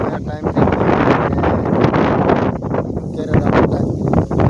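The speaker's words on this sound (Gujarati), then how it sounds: "હવે પવન વધારે છે" Strong wind blows across an open village field where sorghum heads are piled, buffeting the microphone with a loud, continuous rumble and gusty roar, and voices talk faintly underneath.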